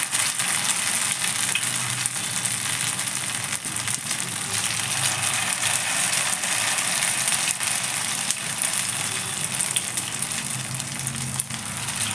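Potato snacks fry in a pan, giving a continuous, even sizzle with a bright hiss that holds steady and close throughout.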